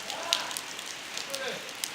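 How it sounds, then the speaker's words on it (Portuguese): Rain falls on surfaces around a house, a soft, steady patter with scattered sharper drips, fairly faint, with a voice murmuring in the background. "tá chovendo"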